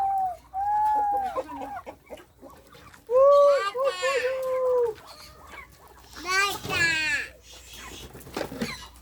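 Chickens on a ranch, including hens and a rooster, clucking and calling close by in repeated bursts, with a person talking over them at times.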